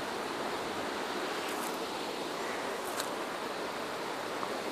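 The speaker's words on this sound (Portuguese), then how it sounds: "Dá pra escutar o barulho dela?" A waterfall near a campsite rushes as a steady broadband roar, distant yet filling the background, with no voices present.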